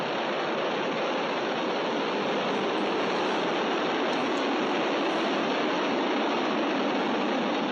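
A Falcon Heavy rocket with 27 Merlin engines roars during the Europa Clipper launch, a loud, continuous broadband rumble that stays constant throughout with no talk over it.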